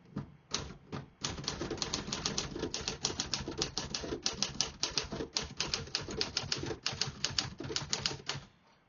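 Rapid, steady clacking of a 1954 Remington Quiet-Riter manual portable typewriter, key strikes coming in a fast even rhythm after a couple of opening taps, close and clear.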